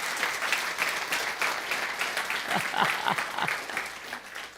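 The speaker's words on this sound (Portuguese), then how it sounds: "dê um aplauso forte para o Senhor Jesus" A church congregation applauding after a sermon, sustained moderately loud clapping with a few voices calling out within it, tapering slightly toward the end.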